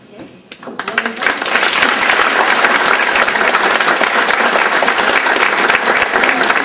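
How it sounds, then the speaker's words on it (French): Loud audience applause fills a hall at a volunteer tribute evening, building quickly from a few claps into dense, sustained clapping by a large crowd, with voices faintly mixed in. "les gens ont applaudi"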